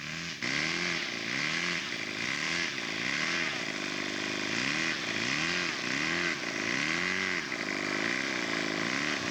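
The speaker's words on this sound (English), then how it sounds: "Taxiing back to the hangar," A scale model aircraft engine buzzes loudly and continuously while taxiing at an outdoor show, its pitch rising and falling in repeated swells.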